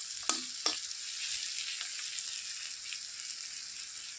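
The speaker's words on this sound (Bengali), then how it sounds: "এই যে পেঁয়াজগুলি মোটামুটি ভাজা হয়ে গেছে" Onions frying in a pan, a faint steady sizzling hiss with two sharp clinks or scrapes early on.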